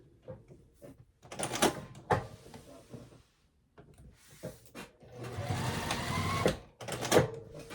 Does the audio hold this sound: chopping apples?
no